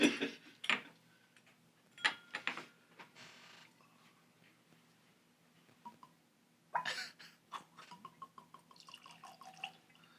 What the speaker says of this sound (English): Oh, we got an extended gurgle.